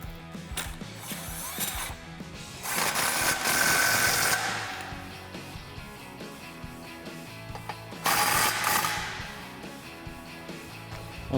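A 13mm socket ratchet or gun snugs bolts on a driveshaft install on a 2011-2014 Mustang GT, with two louder bursts of clicking, whirring tool noise between quieter mechanical handling, close by.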